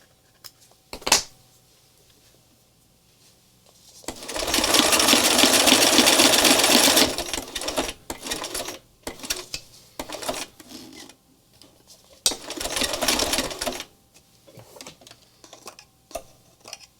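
A sewing machine stitches art journal pages, running in two loud, buzzing bursts of a few seconds each, separated by quieter handling clicks and rustles, with no voices.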